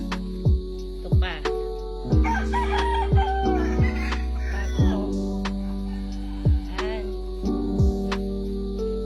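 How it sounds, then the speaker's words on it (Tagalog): Chickens on a small backyard farm: a rooster crows several times, loud and close, while hens cluck in sharp repeated bursts against a low steady hum. "Yan yung mga manok ni asawa."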